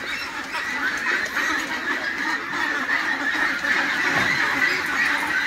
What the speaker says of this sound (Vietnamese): Đây là vịt cherry các bác nhá.